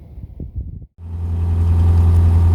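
Narrowboat diesel engine running steadily on the Oxford canal, a loud continuous low rumble that drops out briefly and then returns, building to an even drone.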